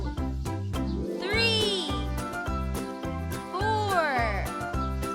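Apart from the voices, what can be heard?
cats meowing in a children's counting video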